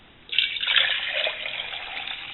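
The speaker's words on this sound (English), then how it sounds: "I'm going to go ahead and pour my 2 cups of water in my Heine pot." Cold water pouring into a Heine pot beside an alcohol stove, a steady splashing stream starting abruptly and running continuously, close and fairly loud with no talk.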